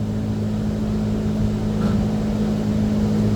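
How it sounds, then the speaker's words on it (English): A Copeland digital scroll compressor in an AAON rooftop unit cycles on and off, giving a steady low mechanical hum with a faint shift partway through, heard close and without talk. "you can hear the compressor going on and off. Copeland digital scroll"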